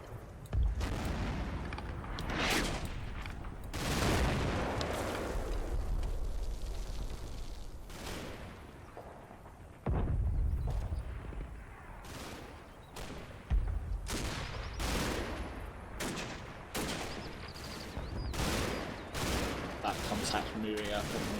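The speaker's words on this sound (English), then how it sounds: "That's the ammo cook-off on the Sherman there." Ammunition cooking off inside a burning Sherman tank in the Combat Mission hedgerow war game, with scattered rifle and machine-gun fire; repeated sharp cracks and heavy booms burst irregularly over a dense, continuous din of battle.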